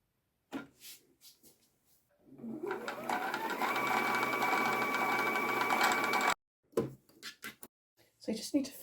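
Sewing machine with a jersey needle stitching knit fabric, a steady mechanical whir lasting about four seconds that starts as it speeds up, with someone speaking briefly before and after.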